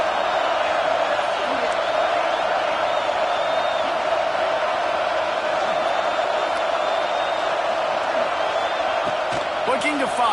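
Dense, steady roar of a college football stadium crowd, loud and continuous throughout with scattered cheers and whoops rising out of the mass, and a commentator talking over it.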